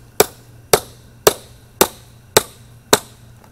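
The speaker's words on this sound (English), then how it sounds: "So you just tap it around there. Screwdriver, normal screwdriver." A normal screwdriver is tapped around the lid of an ammo spam can, giving six sharp metallic knocks at an even, unhurried pace about half a second apart, close and clear with no talking.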